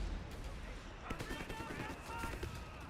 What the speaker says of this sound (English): Who needs heavy artillery when you can just have lighter artillery? Even has a 75mm helping with the barrage.